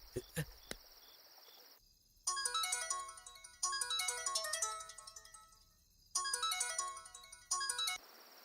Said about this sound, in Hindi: गुरुजी फोन क्यों नहीं उठा रहे?